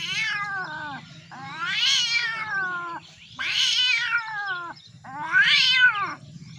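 A man imitates a cat meowing with his voice, giving four drawn-out, wavering meows that rise and fall, loud and close with short gaps between them.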